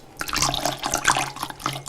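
Kirsch water is poured as it is added to sugar syrup in a German kitchen, a close, steady splashing trickle of liquid with bubbly gurgles.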